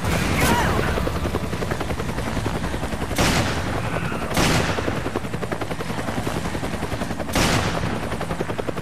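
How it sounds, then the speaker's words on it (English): Sustained rapid gunfire in the video game Resident Evil 5, dense automatic bursts with several sharper loud blasts standing out, alongside a steady helicopter-like rotor drone. "Gunfire."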